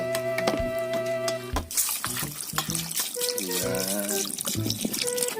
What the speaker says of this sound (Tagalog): Lagyan po ng tubig,